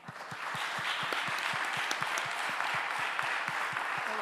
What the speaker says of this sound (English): A big applause to the team.